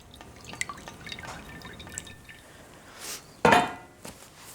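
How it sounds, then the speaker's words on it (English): Brown roast chicken juices, mostly olive oil, are poured from a pan with light drips and small clinks, then a brief louder splashing pour near the end, close and without talking. "Pour these wonderful brown juices from the chicken, which is really just a bit of olive oil."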